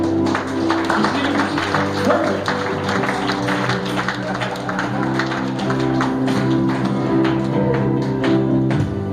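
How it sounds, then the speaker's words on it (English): Church congregation clapping their hands in praise, rhythmic claps and taps over sustained worship music, with a brief spoken word partway through. "Let's give God a huge hand clap."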